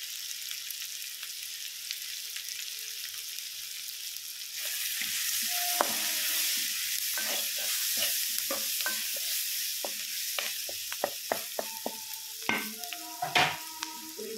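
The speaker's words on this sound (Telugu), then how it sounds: "ఫ్రై చేసుకొని ఇందులో టమాటో కూడా యాడ్ చేస్తానండి" Onions and tomato frying in a pan for paneer curry: a soft steady sizzle, then a louder hiss as ingredients go in, with repeated scraping and clinking of a stirring spoon against the pan, no talking.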